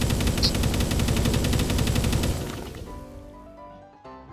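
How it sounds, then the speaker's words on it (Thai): Rapid automatic gunfire from the Call of Duty Mobile video game: a sustained, loud burst of evenly spaced shots lasting about two and a half seconds, then fading into quieter ambient game sound. "มีคนยิงมา"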